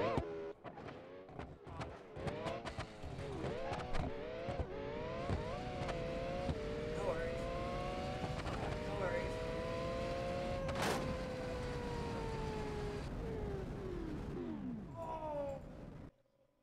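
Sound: Formula One race car engine in BeamNG video game

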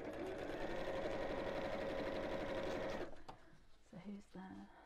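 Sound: sewing machine stitching an evening bag

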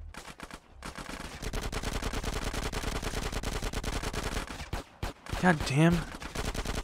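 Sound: SMG gunfire in video game GTA San Andreas

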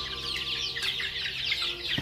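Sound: chickens clucking

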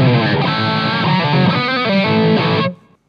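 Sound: electric guitar through Blackstar Silverline amp, high gain

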